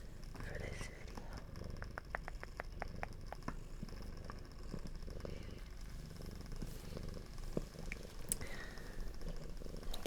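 Continuous soft, rumbling purr from a cat, close and steady, with occasional crackling clicks and faint whispering layered on top.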